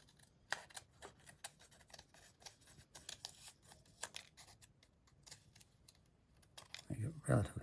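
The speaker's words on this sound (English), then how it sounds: "So let's snip a piece of paper." Scissors snip through a sheet of paper in a quick run of sharp, close cuts over roughly seven seconds, with a louder burst of handling at the end.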